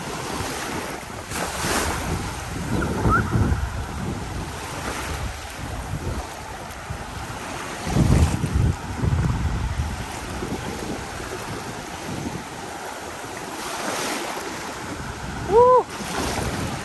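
Ocean waves wash onto a Bornholm beach in steady surges, with wind buffeting the microphone; a few brief exclamations break in near the end.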